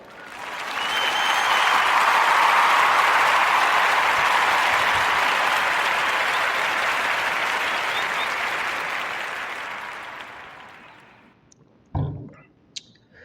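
A podcast audience gives a warm round of applause for people-owned business owners: dense, steady clapping holds for about eleven seconds, then fades away, followed by a few brief clicks and knocks.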